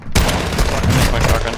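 Shotgun fired in the Warzone 2 video game: a sudden loud blast after a brief quiet start, followed by a dense sustained roar of gunfire and explosions filling the rest of the moment.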